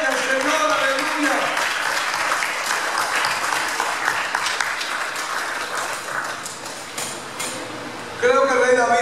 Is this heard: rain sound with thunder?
no